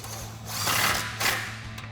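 A power tool with a 16 mm socket whirs in two short, close bursts, buzzing as it tightens bolts on a Jeep Gladiator front bumper, with brief pauses between.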